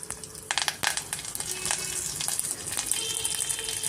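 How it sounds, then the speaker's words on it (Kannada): Mustard seeds and dried chillies frying in hot oil for obbattu saaru, a steady close sizzle with sharp crackling pops from the seeds, no talk. "ಬಾಡಿಗೆ ಮೆಣಸಿನ್ಕಾಯಿ ಸೇರಿಸ್ತಾ ಇದ್ದೀನಿ"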